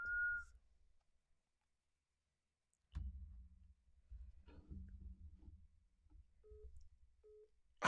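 A Mojo Dialer auto-dialer placing a telephone call: a brief tone at the start, silence, then faint line noise, a few short repeated beeps and soft clicks.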